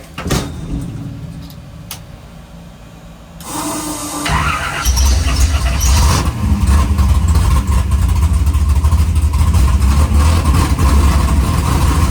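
A car starting up and driving away from a race track, quiet rustling and a squeal at first, then a loud, close engine roar rising around four seconds in and holding steady, no talk.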